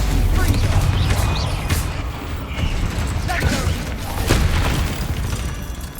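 Explosive spells Confringo and Bombarda blast in the video game Hogwarts Legacy, heavy booms and rumbling crashes close and loud, with rattling debris, under a voice casting them.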